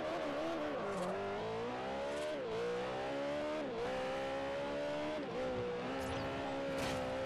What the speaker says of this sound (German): Ich werde es jetzt einfach probieren, dass ich einfach Vollgas geradeaus fahre